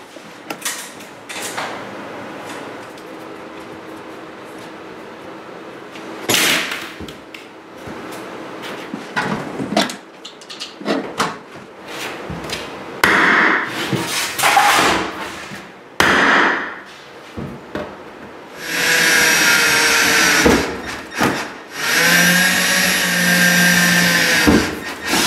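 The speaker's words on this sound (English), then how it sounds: "why I don't use a disc normally to cut this metal and why I use aviation shears" Aviation shears snipping through sheet metal in a garage workshop, a run of sharp creaking cuts and metallic scrapes in bursts, with louder sustained grinding rasps near the end.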